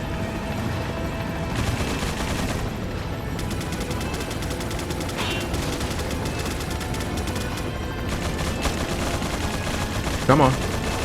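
Gunfire and minigun shots in Resident Evil 4 (2005), dense continuous automatic fire rattling throughout with scattered louder reports, a sustained loud barrage filling the whole stretch.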